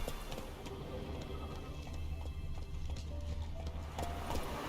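The horse Roach in The Witcher 3 moves at a steady clip-clop, hoofbeats thudding in a quick, even rhythm over a low rumble, with no voices.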